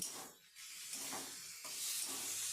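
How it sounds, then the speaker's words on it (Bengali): Fried potatoes sizzling in a pan with spice paste for Bengali rui fish curry, a faint steady hiss that swells and dips as they are stirred. "এরপর ভেজে রাখা আলুগুলোকেও মশলার সাথে মেখে ভালোভাবে ভেজে নিচ্ছি।"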